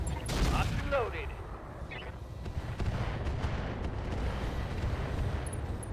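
Mech weapons in the RogueTech video game fire direct on a Marauder, a dense rumbling barrage of blasts and booms with sharp bursts early on, sustained and fairly loud throughout.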